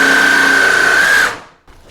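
A jigsaw cuts through wood for a bed frame, a loud, steady high-pitched buzz for over a second before the blade stops and the noise drops away, leaving faint room sound.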